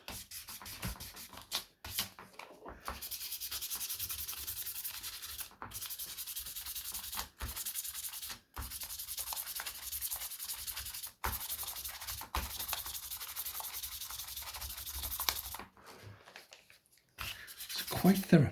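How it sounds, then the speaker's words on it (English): Guitar frets are sanded and smoothed with fine P1000 abrasive: a steady, close rubbing hiss in long even strokes with brief pauses, fairly quiet, no talk. "Just smoothing those frets."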